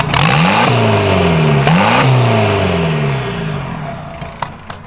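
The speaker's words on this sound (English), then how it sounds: "just want to give you guys a couple coal rolls" A diesel Volkswagen TDI stance car revs hard, its engine pitch sweeping up and down in a couple of loud bursts, then settles into a fading rumble with a few faint clicks near the end.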